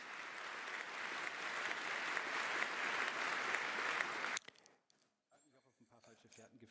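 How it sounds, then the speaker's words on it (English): Audience applause at a talk: sustained crowd clapping that swells and then stops abruptly, followed by quiet room sound with faint speech. "Giving him applause."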